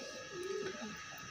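A pigeon gives one soft, brief coo at its nest, faint and somewhat distant, over a low background hum.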